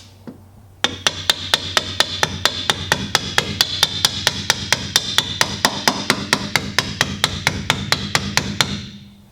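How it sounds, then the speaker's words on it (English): Steady, rapid series of sharp rubber mallet taps seating a subframe collar on a Genesis coupe, around thirty evenly spaced strikes close by, each a crisp knock with a short ring. "Use a rubber mallet if anything, or just get a block of wood and a regular hammer"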